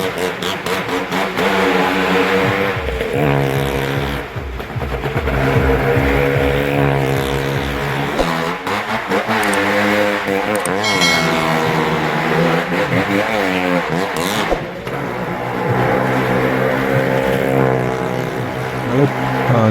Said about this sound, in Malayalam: ഇപ്പോൾ ബുള്ളറ്റും കൊണ്ട് മരണക്കിണറിൽ ഓടിക്കുന്നതാണ് ഇവിടെ